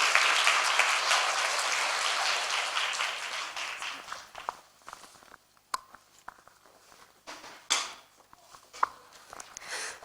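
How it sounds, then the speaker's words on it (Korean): Audience applause welcoming a student speaker at a university event, a loud dense burst of clapping that fades after about four seconds into scattered claps, footsteps and shuffling. "우리 선배 큰 박수로 맞이하도록 하겠습니다"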